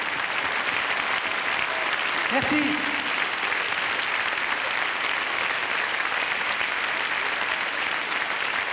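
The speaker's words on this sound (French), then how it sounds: "Vous avez raison de les applaudir." Studio audience at the opening of France 2's 1993 Téléthon applauds steadily for the whole stretch, a dense, even wash of clapping, with a brief word of thanks spoken over it.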